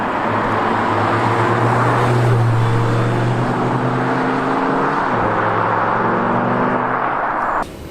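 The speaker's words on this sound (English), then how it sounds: "So let's jump in, go for a drive with Grant" An Audi R8 V10 sports car with an R-Tronic gearbox is driven on the road, its engine droning loud and steady from inside the cabin with shifting tonal whine and a gear-change dip near the end.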